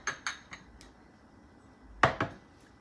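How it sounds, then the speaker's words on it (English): A spoon stirs leftover cheeses together in a bowl for lasagna cups, giving a few sharp, close clinks and scrapes against the bowl, spaced out, then a quick pair near the end. "Stir them up just a little bit."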